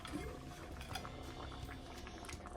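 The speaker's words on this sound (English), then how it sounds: "our chili's been simmering for 15 minutes" Chili with ground beef, beans, peppers and onions simmering in a pot, a soft, dense bubbling and gurgling that stays steady and close throughout.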